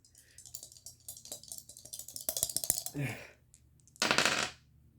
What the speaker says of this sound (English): Take the dice, the little white dice again.